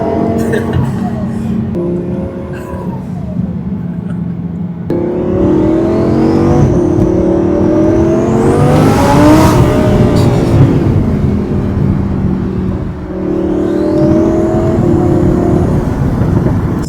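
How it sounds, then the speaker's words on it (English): A loud, close twin-turbo V10 engine in an Audi R8 revs hard while a turbo whine rises and falls in sweeping pitches over the roar, peaking midway and building again. "It's just such a wild experience hearing the V10 along with the turbo spooling."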